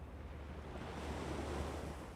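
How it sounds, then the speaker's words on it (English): Quiet bay waves lap against the stones of a cliff face, a soft steady wash of surf with a breezy hiss and no voices. "Beyond the archway, the bay's quiet waves lapped on the stones of the cliff face."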